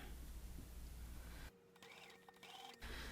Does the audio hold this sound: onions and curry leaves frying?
no